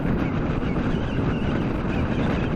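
Wind buffets and roars against a rider's helmet on a 2017 Kawasaki Ninja 650, a dense, constant rushing noise held at steady loudness throughout.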